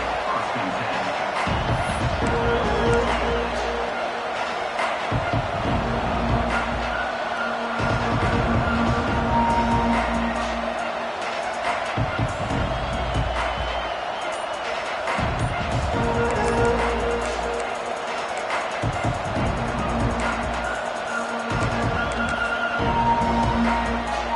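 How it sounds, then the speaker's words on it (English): A packed stadium crowd at an American college football game between Oregon and Michigan roars loudly and continuously, surging in waves while a commentator talks over the din. "This crowd bringing an ear-splitting welcome to their visitors."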